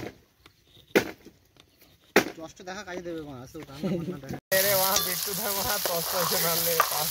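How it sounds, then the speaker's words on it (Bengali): Capsicum frying in a pan at a picnic, a loud steady sizzle that swells in the final seconds, with people talking over it and clanks of utensils earlier. "তো ক্যাপসিকাম ভাজা হয়ে গেছে"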